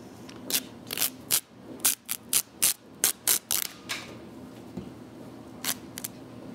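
Fabric torn by hand into strips for a homespun wreath, with about a dozen short, sharp ripping bursts spaced unevenly and close up, followed by a long pause and then two more tears.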